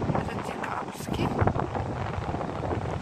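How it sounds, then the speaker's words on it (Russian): Strong wind buffets the microphone on a beach in December, with a steady broadband roar and gusts, and the sea churning nearby. A voice speaks briefly over it. "А здесь такой ветер."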